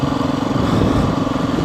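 A Beta 390 RRS motorcycle engine runs loud and close with a steady, buzzy drone that holds nearly level, with no one talking over it.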